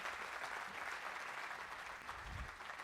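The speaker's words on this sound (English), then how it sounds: "Can we have a huge round of applause for all the panelists?" Audience applause for the panelists at a cloud community day event in Bhopal: sustained, even clapping from a crowd, fairly faint and distant, holding steady for a few seconds.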